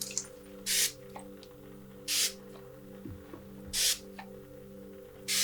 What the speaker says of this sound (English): So I'm just spraying this in your aura here.